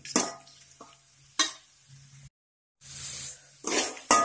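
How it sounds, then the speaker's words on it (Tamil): Gooseberries (amla) sautéing in a pan for gooseberry rice, with a few bursts of stirring and scraping over a faint sizzle, close by, separated by brief pauses and one silent gap. "நல்லா வதங்கிடுச்சு நெல்லிக்காய்."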